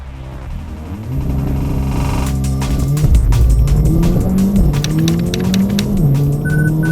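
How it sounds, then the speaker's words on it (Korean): Mercedes-Benz A45 AMG revs hard under full acceleration, its engine note climbing through rising pitch sweeps with quick gear changes, loud and close with tire and road noise throughout. "엔진을 바탕으로 한 가속 성능에 대해서도 한번 알아볼까요?"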